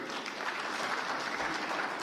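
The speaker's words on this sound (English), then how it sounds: "we give him a clap, His Excellency, to the President" Applause for the President at a political meeting of Raila Odinga with leaders from Central Kenya, a moderately faint, even patter of many hands clapping without a break.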